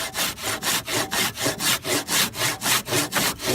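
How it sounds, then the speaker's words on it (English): Hand saw cutting wood while assembling frames for a Duck Barge boat, about fourteen even, rhythmic back-and-forth strokes, close and loud, with no talk. "it's real nice to be able to grab out your hand saw"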